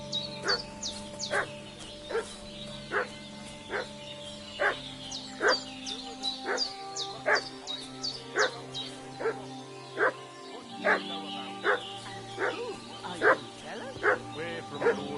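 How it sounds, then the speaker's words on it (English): A dog in the video game Kingdom Come: Deliverance barks repeatedly in a steady, insistent rhythm of sharp yips at moderate distance, with some quieter talk in between. "What's that dog making such a fuss about?"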